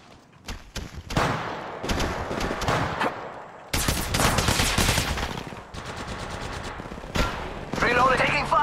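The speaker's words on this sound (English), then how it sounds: "Listen up, I'm getting shot at. They're shooting at me." Bursts of automatic gunfire in the battle royale game Apex Legends, rapid volleys and single shots coming in waves, loud and close, with some voice chatter mixed in.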